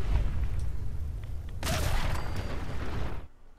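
Explosions in the video game Fallout 4, a dense, loud rumbling burst that swells mid-clip with crackling debris before cutting to near silence.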